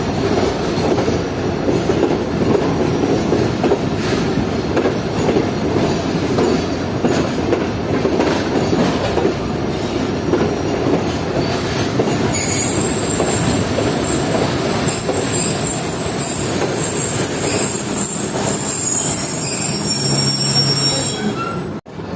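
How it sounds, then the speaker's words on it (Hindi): A freight train led by an HGMU30 locomotive rolls into Samma Satta junction with a continuous loud rumble of wheels on rails, clattering joints and high squealing from the wheels. "ये एक HGMU30 के साथ एक फ्रेट ट्रेन एंटर हो रही है सम्मा सट्टा जंक्शन पर"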